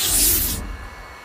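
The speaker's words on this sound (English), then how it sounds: "So I'm using a heat gun." Electric heat gun blowing hot air to soften car floor mat adhesive, a loud close airy hiss that cuts off abruptly after half a second, leaving a faint low room hum.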